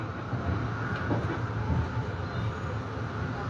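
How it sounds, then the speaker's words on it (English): A Metro-North Railroad M3A train rolling by on the tracks, a steady broadband rumble and rattle of wheels at moderate loudness for a few seconds. "Recorded the Metro North Railroad train right now."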